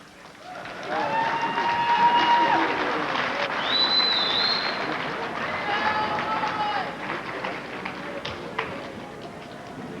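A crowd applauds the runners-up at the 1998 state championship game between Huna and Northway, a broad, sustained clapping that swells after a second, with cheering and a few whistles over it.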